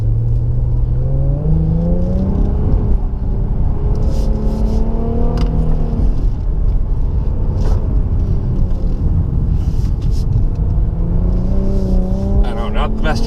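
A 2016 Infiniti Q50 Red Sport 400 with direct adaptive steering runs an autocross course, its engine note loud and close, climbing and dipping repeatedly as it accelerates and slows through the turns.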